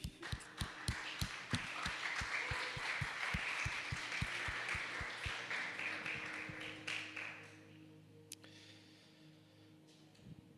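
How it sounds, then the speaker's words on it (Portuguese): Church audience clapping for Jesus, a burst of scattered, irregular hand claps that gradually thin out and fade, heard fairly faint in a quiet hall, with sparse talk afterward. "Uma salva de palmas para Jesus, amém?"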